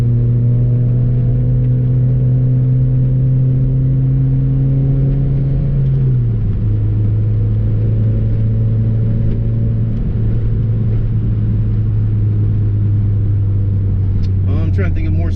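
The supercharged engine of a 1993 Subaru Vivio holds a loud, steady hum. Its pitch drops once midway and then settles into a smooth idle, with a short burst of clatter near the end.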